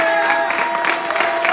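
A church congregation applauding, a loud sustained wash of clapping with some cheering from the crowd, filling the room throughout.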